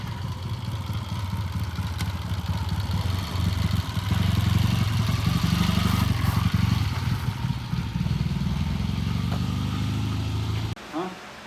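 A 1978 Triumph motorcycle rides past, its engine building from a steady low rumble to a louder pass before cutting off abruptly near the end, with talk faintly over it.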